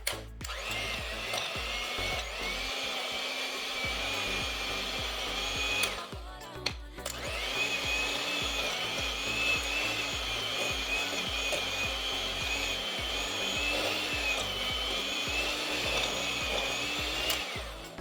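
An electric mixer creams salted butter and cream cheese for soft cookie dough, whirring in a steady loud drone with a short pause partway through before running on, and no voices.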